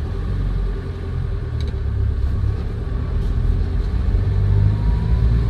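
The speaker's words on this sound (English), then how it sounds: "Anyway, off we go. Enter first, handbrake off." A 2010 Land Rover Defender 90 County with the TDCi diesel engine pulls away in first gear, a low steady rumble that swells gradually as the engine takes load, heard close and continuous without talk.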